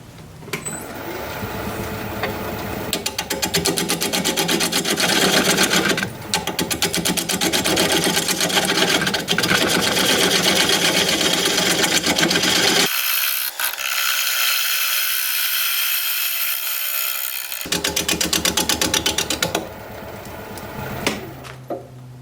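A lathe turns a Gravenstein apple wood bowl, its steady mechanical whir and rhythmic tool chatter loud and close, cutting out briefly for a few seconds of quieter hiss before the turning noise resumes.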